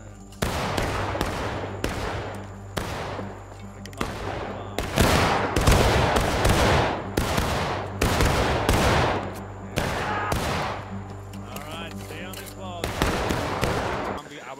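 Gunfire in the video game War of Rights, in a zombie mode, comes as repeated sharp musket shots, some single and some in clustered volleys, loud and close, with a low drone underneath.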